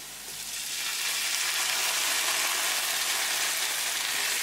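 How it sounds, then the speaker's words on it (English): Spices and tomato sauce fry with a tadka for a fish masala, giving a steady, loud, close sizzle that holds evenly from start to finish with no talk. "Once all the spices are nicely combined, cooking for half minute, add tomato sauce."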